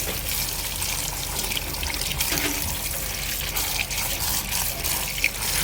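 Grape leaves rinsed one at a time under running tap water make a steady, close splashing trickle with small irregular splatters throughout.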